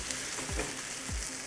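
A moong dal pancake cooking in oil or ghee sizzles softly and steadily in a pan just after being flipped, with a couple of brief scraping touches; faint and close, no voices.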